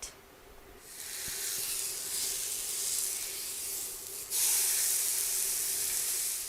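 Food sizzles in a frying pan with a close, steady hiss that swells sharply early on and again near the end.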